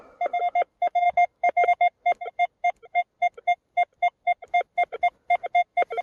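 A Gauss metal detector sounds a strong signal as a fast run of clear, loud, evenly pulsed electronic beeps close by, repeating rhythmically for several seconds with no talking.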